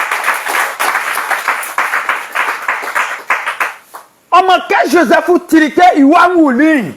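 A church congregation breaks into loud, close applause, a dense run of rapid claps for about four seconds that fades out, then a voice speaks loudly and at length.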